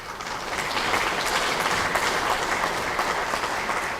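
Sustained audience applause fills a political rally hall after Ahn Cheol-soo's speech at a People Power Party event, a steady dense clatter of many hands at even loudness throughout.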